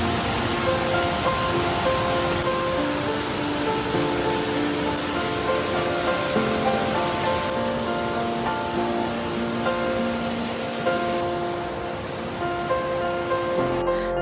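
Achankallu waterfall at Konnakkad, Kasargod, swollen after several days of heavy rain, gives a constant dense rushing roar of falling water, steady and loud throughout, with faint musical tones over it and no speech.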